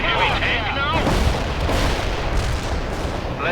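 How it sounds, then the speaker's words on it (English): An artillery strike lands in World in Conflict with loud, rolling explosions that rumble continuously. Radio-style voices and game chatter run underneath the blasts. "The artillery strike will hit right on the mark."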